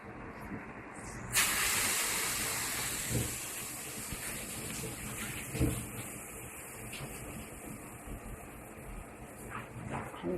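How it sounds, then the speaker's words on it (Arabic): Moulded falafel made with baking soda drops into hot oil and sets off a sudden, steady sizzle that starts a moment in and keeps hissing in the background, with faint kitchen clatter. "هنبتدي بقى نقلي هنا بسرعة عشان ما تتحرقش"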